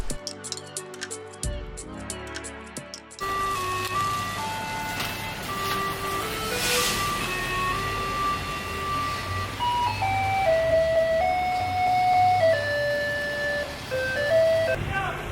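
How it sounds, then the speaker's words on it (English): A garbage truck in Ecuador plays a tinkling ice-cream-truck melody, the tune running continuously and fairly loud over street background noise. "It has the music of an ice cream truck, but it's for the garbage truck."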